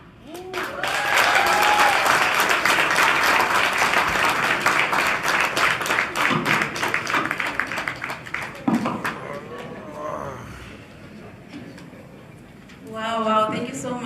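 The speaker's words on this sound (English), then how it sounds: "Let's give them a round of applause once again." An audience claps and cheers loudly for a poetry group, a dense burst of applause that tapers off. A voice speaks over the noise near the end.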